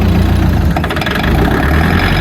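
A Mitsubishi MT 25 Japanese compact tractor engine running while driving, a loud, steady, close diesel chugging drone that continues unbroken throughout.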